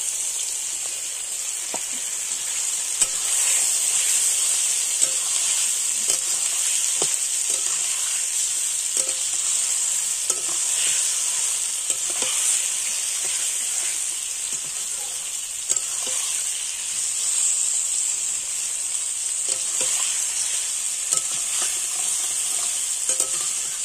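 Chicken pieces fry in a spiced masala, giving off a steady bright sizzle with scraping stirs now and then. The sound runs continuously, close and fairly loud, with no voices.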